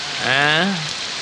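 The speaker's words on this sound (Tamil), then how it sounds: "மழை வருது இல்ல, செருப்படுத்து போடு." Rain falls steadily as a dense, even hiss throughout, with a short voice-like sound rising briefly over it.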